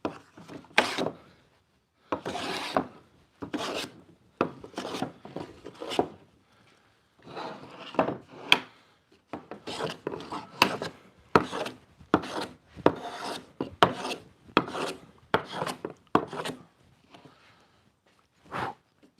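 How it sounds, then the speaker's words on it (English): Repeated strokes of a Lie-Nielsen hand plane shaving wood to make fire-starter curls, each pass a rasping swipe in an irregular rhythm, close and moderately loud with brief pauses between. "That's really why I'm doing hand planing, because I want fire starters"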